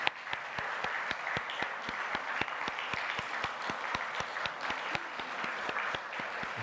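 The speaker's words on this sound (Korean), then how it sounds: "우리 이 새로운 가정을 위해서 크게 우리 축복의 박수를 함께 하도록 하겠습니다" A church congregation at a Sunday morning service at Daegu Seomunro Church claps in blessing for a new family, a long run of steady, rhythmic applause with the claps falling nearly in unison at a moderate distance.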